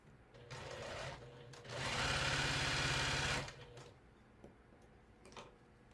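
A sewing machine stitching quilt pieces runs in a steady rapid whir for about two seconds, close and clear, with lighter clicks and fabric handling before and after.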